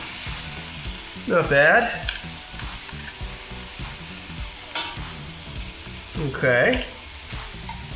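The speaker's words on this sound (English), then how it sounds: "Top definitely has a better sear than the bottom." Pork chops sear in a frying pan with a constant, close sizzle and a few stirring or shifting sounds, while a person speaks briefly twice over the frying.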